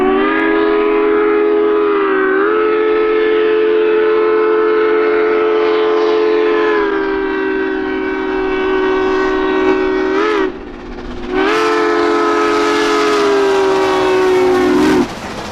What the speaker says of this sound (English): The engine has a whistle and an air horn,